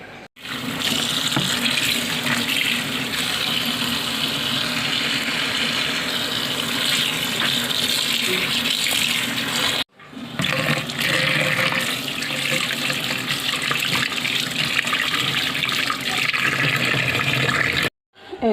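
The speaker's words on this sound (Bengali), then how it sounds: "এখন ধনিয়া পাতা আর শুটকিগুলো ভালোভাবে ধুয়ে নেব।" Tap water runs steadily into a sink while coriander leaves and dried shutki fish are washed, a continuous loud splashing stream broken by a brief pause midway and stopping near the end.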